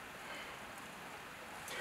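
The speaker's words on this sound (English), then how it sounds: "It's raining now," Steady rain falls in a dense, even hiss with faint scattered drop patter, heard from close by outdoors during work on an NA Miata, with no voices over it.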